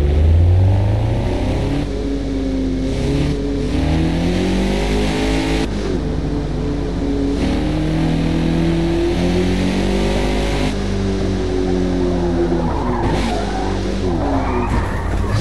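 Mazda race car in Forza Motosport at Laguna Seca, engine revving loud and rising through gears with tire squeal and skidding, a sustained whining roar shifting pitch repeatedly.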